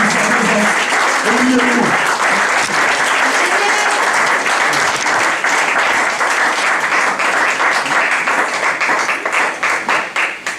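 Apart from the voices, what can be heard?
audience applauding to welcome the reverend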